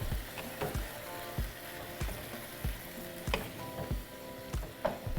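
Teriyaki beef stir fry sizzles steadily in a pan after the sauce is added and brought to a simmer, with a constant frying hiss and regular stirring clicks close by.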